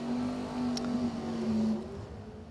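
At a bracket drag racing event, a race car accelerates down the strip as a steady, distant engine drone that holds evenly and then tapers off.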